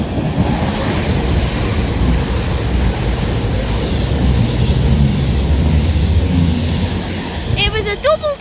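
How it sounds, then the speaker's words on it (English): A CrossCountry Voyager passenger train, a double set bound for Manchester Piccadilly from Bristol Temple Meads, passes through Kidsgrove station on the West Coast Main Line with a loud, steady rumble that holds throughout before a brief horn-like tone near the end. "Now passing through is going to be another cross-country Voyager bound for Manchester Piccadilly from Bristol Temple Meads."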